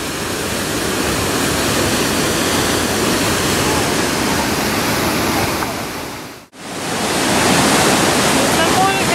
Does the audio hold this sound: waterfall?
yes